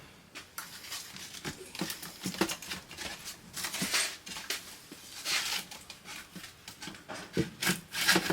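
Wooden crate pieces are pulled off the shipping crate of a Mid-America cue lathe, making close, scraping, creaking wood rubs and knocks in irregular bursts, with no talking.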